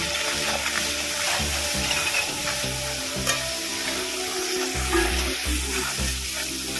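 Vola fish pieces coated in turmeric, chili powder and salt fry in hot oil with a constant crackling sizzle, and a spatula scrapes and stirs them at intervals, close-up with no voices.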